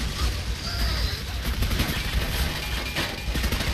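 Dense, continuous rattle of rapid gunfire from Clive Barker's Jericho, sustained bursts with booming low end and occasional sharper cracks throughout.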